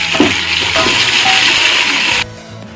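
Long-sliced onions sizzle hard in hot oil for a country chicken dum biryani, a steady bright frying hiss lasting about two seconds before it cuts to a quieter kitchen background, with a faint utensil clink near the start.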